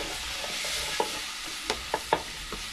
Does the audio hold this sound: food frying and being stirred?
yes